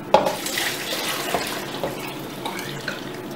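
Salt water brine being poured over cucumbers and onions for canned mustard pickles, a continuous splashing trickle with small clinks and drips of liquid hitting vegetables, close and alone.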